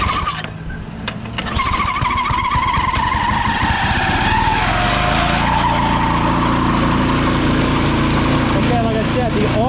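A Craftsman snow blower's small engine runs steadily at a loud, even drone after starting, while people talk over it.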